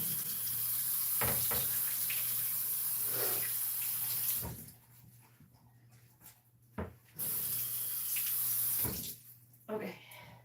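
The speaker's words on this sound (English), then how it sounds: "I'm going to rinse this" Tap water runs and splashes over a pork roast during pig butchering, loud and steady at first, then cutting off, briefly returning and stopping again, with occasional handling knocks.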